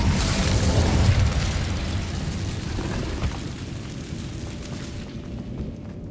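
Incendio fire spell cast in the video game Hogwarts Legacy, a loud roaring burst of flame that swells over the first second or two and then trails off into a steady low rumble, with no voices.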